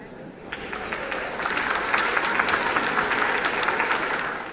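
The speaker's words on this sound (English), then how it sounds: "there are some crowd noises, but there's no crowd" Simulated crowd applause from a game stage scene, a steady dense roar of many hands clapping that swells and holds near and loud for a few seconds.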